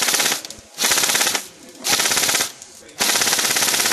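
A Tokyo Marui M4 airsoft rifle fires loud, rapid full-auto bursts, three long strings of clattering shots separated by short pauses, close to the microphone with no talking.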